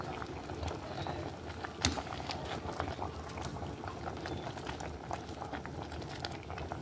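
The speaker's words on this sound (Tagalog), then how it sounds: "kumukulo na" Sinigang soup with milkfish and banana blossom bubbling at a steady boil in a pot, a close, continuous gurgle with scattered pops and small splashes, no voices.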